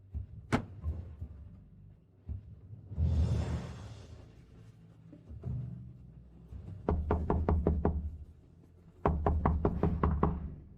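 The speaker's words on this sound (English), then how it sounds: "stop knocking" Someone knocks on an apartment door in several bursts of quick, sharp raps, fairly close and loud, with a whooshing sound and other faint movement between the bursts.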